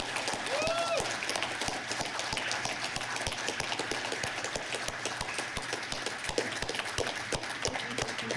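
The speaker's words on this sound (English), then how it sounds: "Let's give them a huge round of applause." A closing-ceremony audience applauds the event sponsors with sustained, dense clapping that fills the hall, loud and steady throughout, with a few cheers rising over it.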